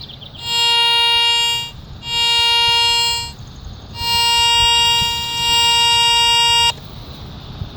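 Garrett Ace 400 metal detector sounding its target tone while pinpointing over a bottle cap: four steady electronic beeps, each held about a second or more with short gaps, clear and close over faint background hiss.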